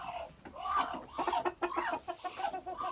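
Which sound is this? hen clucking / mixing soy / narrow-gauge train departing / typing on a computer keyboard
hen clucking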